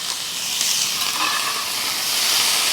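Steak bites sear in a hot pan in a hotel room, giving a loud, continuous hiss and sizzle that holds steady throughout, with no talk over it.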